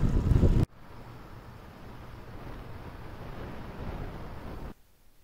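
Steady, moderate wind rush buffeting the microphone of a moving bicycle for about four seconds, a low continuous roar with no voices.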